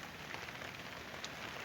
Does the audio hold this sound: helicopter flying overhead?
no